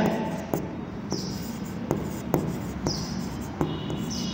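Marker or chalk strokes on a board during an accounting lesson on company liquidation: a steady series of short scratchy taps and squeaks, close and moderately quiet, with no speech.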